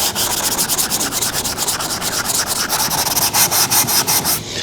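Steady, rhythmic hand sanding strokes rubbing across a car body panel along a body line, loud and close with regular back-and-forth scraping and no talking.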